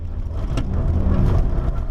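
Nissan GT-R Nismo engine at speed on the Nürburgring, a loud, close, deep rumble held steady in third gear through the Carousel, with no speech over it.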